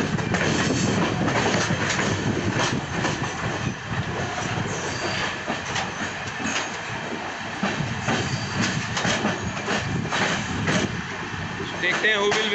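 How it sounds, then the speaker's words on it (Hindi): Indian passenger train, the Mussoorie Express between Delhi and Haridwar, rolling steadily and loudly with continuous rumble and wheel clatter, slowing as a parallel New Delhi–Puri train runs alongside; a voice talks over the noise. "हमारी ट्रेन स्लो हो गई है"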